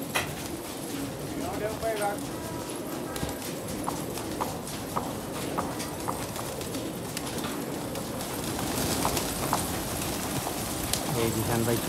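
Pigeons cooing softly among outdoor noise, with horse hooves clip-clopping and people talking in the background.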